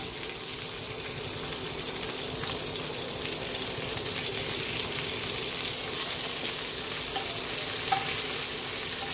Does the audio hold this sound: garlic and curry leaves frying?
yes